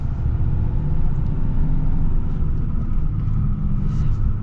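A 2024 Chevy Silverado ZR2 Bison heavy-duty truck drives through a parking lot, its engine giving a steady, loud low rumble heard close from inside the cab.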